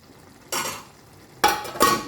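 Curry being stirred in a pot on a small burner, two or three short, soft scraping bursts with quiet pauses between them.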